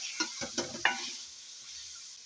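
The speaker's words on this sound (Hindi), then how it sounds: "इसको भी थोड़ा सा मैं फ्राई करूँगी घी के साथ" Whole spices frying in ghee for chicken korma, with a few short scraping stirs near the start over a steady soft sizzle that fades toward the end.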